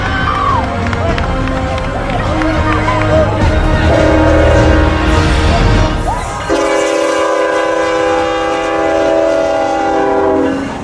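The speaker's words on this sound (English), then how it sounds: "as a train approaches" A train approaching at an outdoor challenge site, with a loud sustained horn blaring over a crowded scene and background voices.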